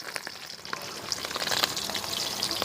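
Onion and green chili frying in a pan, a steady crackling sizzle that swells midway and holds, close and moderately loud with no talk.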